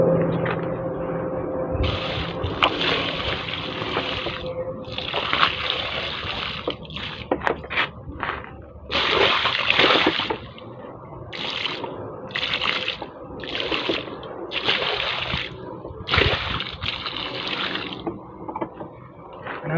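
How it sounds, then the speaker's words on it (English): Water splashes and pours onto garden soil as the ground is wetted before planting a grapevine in Jamaica, a steady close wash of spray with irregular louder gushes and drips, no talking. "I'm wetting the entire area because I haven't watered this spot from morning."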